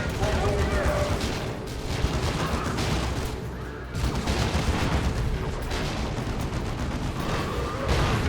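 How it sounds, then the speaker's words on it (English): A Leman Russ tank in Dawn of War II fires repeated shots into a dense battle din, with booms and rattling gunfire layered continuously across the whole stretch at steady loudness. "Lehman Russ taking shots at the Great Unclean One"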